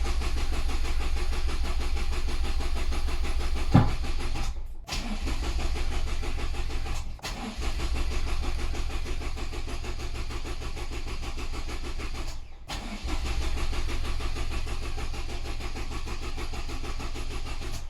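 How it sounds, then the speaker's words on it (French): A starter motor steadily cranks the engine of a Toyota Yaris GR with its ignition coils disconnected, giving a continuous rhythmic whir that pauses briefly three times before resuming. "Je vais faire tourner le démarreur quelques fois."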